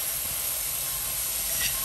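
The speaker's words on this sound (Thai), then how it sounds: "ตอนนี้ก็เอาพริกที่โขกกับหมักกระเทียมไว้ลงใส่ผัดค่ะ" Pounded chilies and marinated garlic stir-frying in a pan, a loud, steady hiss of sizzling oil that runs unbroken from start to finish, with no talking.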